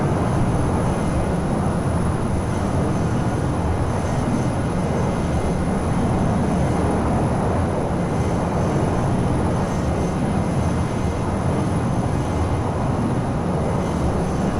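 Learjet 35A jet engines roar in Microsoft Flight Simulator, a loud, continuous broadband rush with a thin high whine above it, steady and unbroken, with no voices over it.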